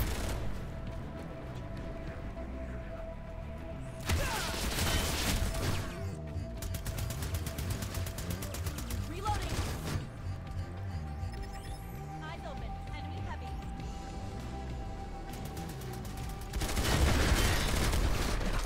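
Gunfire in PlanetSide 2: several loud bursts of rapid shots, with mechanical clicks and rattles in the quieter stretches between them, under a steady background hum.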